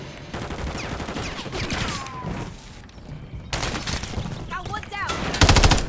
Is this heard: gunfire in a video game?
yes